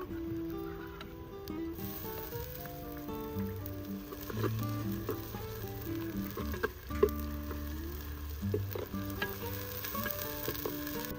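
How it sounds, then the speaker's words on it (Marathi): Garlic, ginger and green chili masala sizzles and fries steadily in a pan for a village-style Agri chicken curry, a continuous crackling hiss with occasional stirring scrapes and faint background music-like tones, no talking. "आता मसाला सुद्धा आपला चांगला परतून झालेला आहे"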